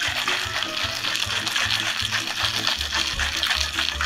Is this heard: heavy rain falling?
no